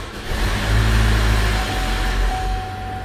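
A 2017 Chevrolet Equinox engine, after rear crank seal failure, cranks and catches, settling into a steady low rumble that stays loud and close for the whole stretch.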